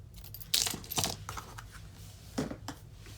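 Scissors snip a short piece of white crinkled seam binding ribbon, giving a few crisp close cuts and faint rustles in a quiet room with no talk.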